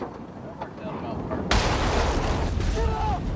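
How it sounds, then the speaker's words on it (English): A loud explosion in Iraq bursts suddenly midway, followed by a roaring rumble and debris noise, with faint voices before and after. "Explosions like this one happen with startling regularity in Iraq."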